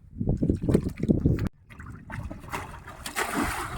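Water sloshes and pours from a kadava pot as a village pond is drained for fishing, a rhythmic series of heavy splashes that breaks off, then a softer, steady trickle and wash of water.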